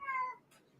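A cat gives a single short meow, fairly faint and close, with no other sound around it.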